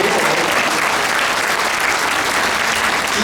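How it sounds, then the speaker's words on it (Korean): A crowd at a pastors' national prayer rally in Busan and Gyeongnam bursts into loud, dense applause, a thick continuous roar of clapping that stays at full strength throughout. "박수 쳐요."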